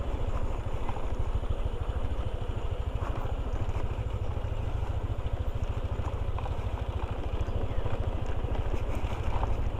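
A motorcycle rides along a muddy dirt road near Tanay, Rizal, its engine a steady low, throbbing drone that holds at an even, moderate loudness without pause.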